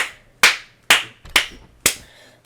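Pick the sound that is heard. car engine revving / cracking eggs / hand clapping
hand clapping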